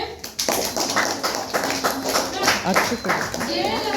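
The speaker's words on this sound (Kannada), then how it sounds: "ಸರಿಯಾದ ಉತ್ತರ, ಚಪ್ಪಾಳೆ." A burst of classroom clapping sounds for a correct answer in a class 8 lesson, several hands beating in an uneven, fairly close patter under a speaking voice throughout.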